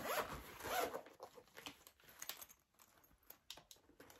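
A two-zipper Lurella cosmetics brush case being unzipped up close, a loud rasping pull at the start followed by softer fabric rustles and small clicks, with no talking.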